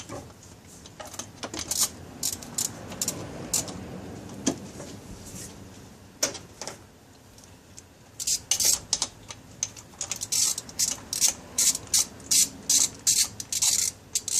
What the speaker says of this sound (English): now you get your 12, and then you ratchet